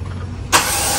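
A 2010 car's engine cranks and catches abruptly, jumping into a loud, steady run close by after a short quiet lead-in.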